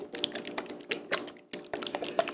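Runny guajillo and red jalapeno hot sauce pours from a bottle in quick, irregular tapping splashes, a close and fairly quiet watery patter with a brief pause midway.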